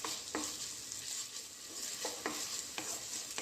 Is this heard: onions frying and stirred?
yes